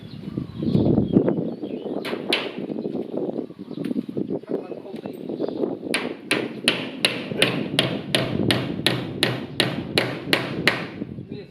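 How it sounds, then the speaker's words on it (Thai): Someone talks while a hammer strikes 1.5-2 inch nails into pre-drilled wood, a few scattered blows at first, then a fast, steady run of sharp, ringing hits. "ตอกด้วยตะปูกี่นิ้วนิ้วครึ่งนี้"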